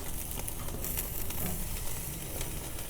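A ribeye steak sizzles on a cast iron grill with a steady, even hiss of frying fat that holds at a moderate level throughout and carries no talking.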